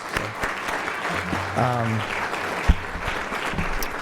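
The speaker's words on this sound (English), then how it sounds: "Give them a round of applause." Audience at a legacy recognition ceremony applauds a group of honorees, with steady clapping throughout and a voice speaking over it partway through.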